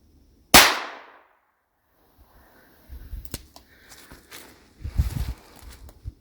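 A single gunshot fired outdoors, a sudden loud crack with a ringing tail that fades over about half a second, followed by quieter rustling, footsteps and handling noises.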